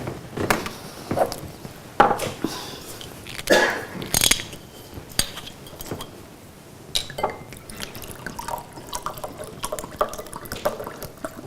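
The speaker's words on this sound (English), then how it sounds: "I just need a glass of water." A glass of water being poured and sipped during a lecture, with liquid trickling, small clinks and gulping sounds spread over several seconds, close and moderately loud with no talking.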